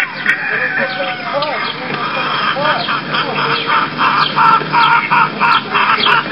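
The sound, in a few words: roosters and chickens crowing and clucking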